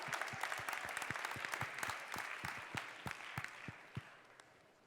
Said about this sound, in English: Please, big round of applause for all of our judges.